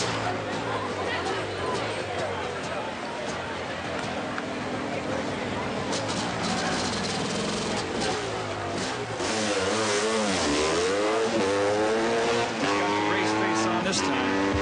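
Motorcycle engines rev and roar at an evening motorcycle jumping event, rising and falling whines building in the second half, under crowd chatter and an announcer's voice.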